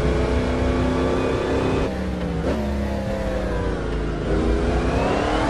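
A 600 hp 1963 Corvette Stingray in a racing game on the Nordschleife roars loudly and continuously under acceleration, its pitch climbing, dipping at a gear change, then climbing again.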